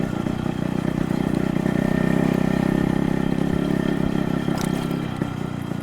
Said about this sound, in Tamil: ஸோ எக்ஸாஸ்ட் நோட்லாம் கேளுங்க, நல்லாயிருக்கும். ஐட்லிங்லேயும் நல்லா ஷார்ப்பாக இருக்கும்